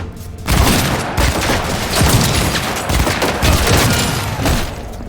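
Heavy gunfire in a Cyberpunk 2077 firefight, with dense bursts of automatic fire and loud booming shots crowding together continuously, close and loud with no pauses.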